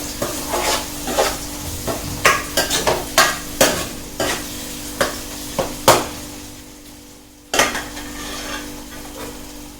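Onions, tomatoes and curry leaves frying in a pan for a fish curry, with a spoon stirring in a steady run of sharp scrapes and knocks over a soft sizzle that pauses briefly near the end.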